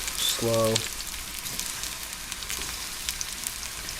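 Sugary fruit fries slowly in an oiled pan with a soft, steady crackling sizzle and scattered small pops, while a short tonal chime or beep rings out near the start.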